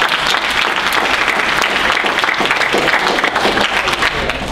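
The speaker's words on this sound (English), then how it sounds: "give yourselves an applause" An audience at a panel event applauds loudly and steadily, dense clapping from a crowd filling the room without a break.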